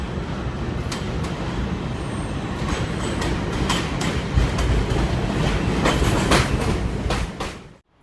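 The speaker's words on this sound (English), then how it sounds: "Taking the 4 train downtown to Fulton Avenue for my St." A New York City 4 subway train rumbles along the rails downtown through Manhattan with rhythmic clacks and a steady roar, then the sound fades out at the end.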